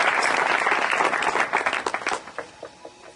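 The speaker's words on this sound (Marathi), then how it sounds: "टाळी वाजूया आपण देवाच्या" Church congregation clapping together during a Marathi worship service, loud dense applause that thins out into scattered individual claps and fades near the end.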